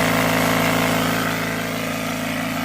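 A pump inflating a flat tire runs as a continuous, loud motor drone, steady and unbroken from start to end with no voices.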